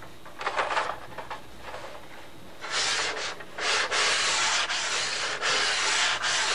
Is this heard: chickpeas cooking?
no